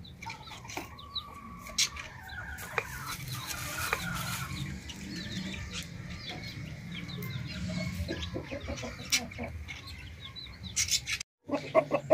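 Two sick chickens cluck softly and intermittently against a quiet background hum, with a few sharper knocks near the end.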